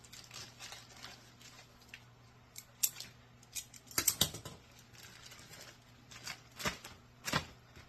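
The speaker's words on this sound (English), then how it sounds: "So what I'm going to do is I'm going to force these into a plastic bag." Plastic crinkles and rustles in short bursts, with a few louder crackling scrunches as two hot roasted bell peppers are pushed into a small plastic bag, quiet and close.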